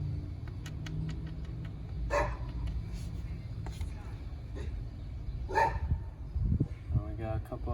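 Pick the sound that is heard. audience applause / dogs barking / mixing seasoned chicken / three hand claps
dogs barking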